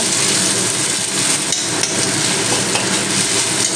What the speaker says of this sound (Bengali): ডিমটা বেশ কুচো কুচো করে ভেজে নেব